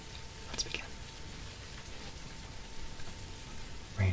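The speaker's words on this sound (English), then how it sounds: "Rain is a bit loud." Steady ASMR rain hiss fills the background at an even level throughout, with a few faint soft clicks and no speech.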